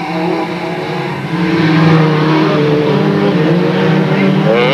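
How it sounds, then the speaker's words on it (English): Race cars at Delta Speedway accelerate away at the green flag in 1996, a loud roar of engines rising and swelling in pitch as the pack pulls off, with a commentator's voice running over it. "Up goes the green. Away goes the cars."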